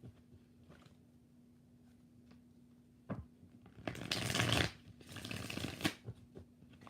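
A deck of tarot cards is shuffled, producing two quick, close papery riffling bursts after a quiet stretch with a few faint taps.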